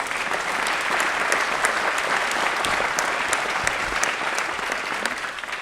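An audience at a Green Party manifesto launch in Wakefield applauds steadily, a dense, even wash of clapping from many hands that holds at full strength throughout.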